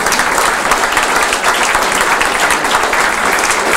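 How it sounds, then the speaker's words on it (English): A seminar audience at an innovation event breaks into sustained applause for a speaker's father, a dense, steady wash of many hands clapping that fills the whole stretch at full loudness. "let's give his dad a round of applause."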